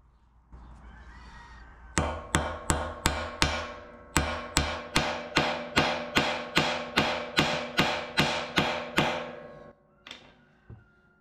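A hammer strikes a refined gold bar in a hammer test, about twenty sharp metallic blows in a steady even rhythm, loud and close, ending with a couple of lighter taps.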